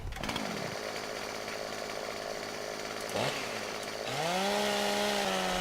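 Chainsaw cutting wood in Farming Simulator 17, a steady buzzing engine drone that dips briefly, then revs up louder and holds a higher whine near the end, with no talking.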